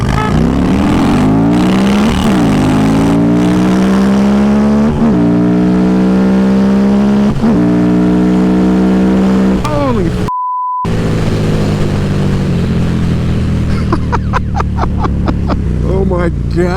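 A 2017 Harley-Davidson V-Rod Night Rod accelerates hard through the gears, loud and close. The engine pitch climbs repeatedly, with a brief drop at each shift, then it cuts to a short beep and continues with wind and engine rumble.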